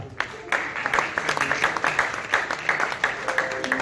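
An awards-show audience applauds as a comedian is invited onto the stage, a steady patter of clapping with scattered louder claps, fairly close and continuous.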